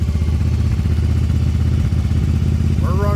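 Yamaha Virago 750 chopper engine idling high, close and loud, with a steady rhythmic thrum broken by irregular pops.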